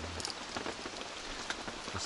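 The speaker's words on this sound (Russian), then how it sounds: "А ну на тебе опять дождь." Rain falls steadily outdoors at a building site, a dense close patter of drops hitting surfaces, constant and fairly loud throughout.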